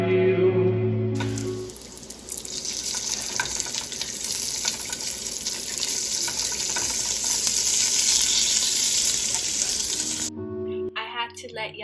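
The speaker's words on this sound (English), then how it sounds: "I had to let y'all hear that sizzling bacon." Bacon sizzles and crackles in a frying pan, a loud, close and steady hiss lasting most of the stretch, briefly preceded and followed by quieter sounds.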